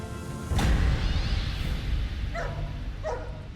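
Dogs barking sharply at a bear treed at a campground, a burst of loud close barks followed by a few fainter, more distant yips.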